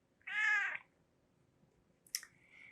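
A house cat lets out one clear, close meow in a quiet room, followed after a pause by a brief, sharper chirp-like call.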